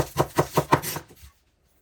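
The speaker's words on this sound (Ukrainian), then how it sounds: "поріжу зелену цибулю" A knife chops green onion on a cutting board in about five quick, even strokes nearby, then stops into silence.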